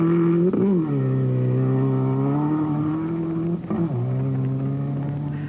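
A rally car in the 2007 Toyota Dealer Rally drives past with a loud, sustained engine note that dips briefly twice as the driver shifts or lifts off, then pulls hard again, close and dominant throughout.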